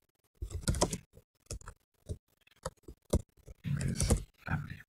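Keys tapped on a computer keyboard while entering a title in video editing software, heard as irregular close clicks in short bursts with several longer clustered runs of typing.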